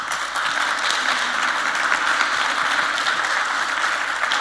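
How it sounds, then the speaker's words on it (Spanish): An audience at a Christian leaders' congress in Chile gives steady applause. The clapping is dense and even, continuous from start to finish, with no talking over it. "vamos a dar aplauso"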